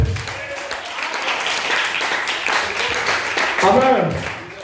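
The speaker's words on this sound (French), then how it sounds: "Donnez-moi une acclamation," Applause from a church congregation in a large hall, a steady wash of many hands clapping that runs throughout, with voices and cheering mixed in and swelling loudly near the end.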